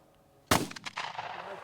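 A single sharp gunshot from a handgun or rifle cracks out at an outdoor shooting session in the hills, followed by a rolling echo and faint background noise.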